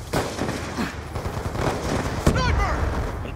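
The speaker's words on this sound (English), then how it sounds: "I'm using a sniper rifle" Gunfire in a shooter game, a sniper rifle in use: several sharp shots and bursts crack over a busy backdrop, with one strong report near the end followed by whooshing effects, and voices mixed in.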